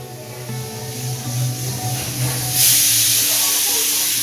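Potatoes frying for aloo chochchori in a home kitchen, a steady soft sizzle and hiss that swells louder partway through, with faint household background sound around it.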